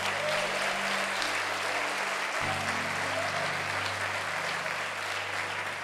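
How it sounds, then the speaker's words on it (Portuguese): A church congregation applauding during a service, a dense continuous patter of many hands over a low droning hum, steady and fairly close throughout. "Você pode aplaudir ao Senhor aí?"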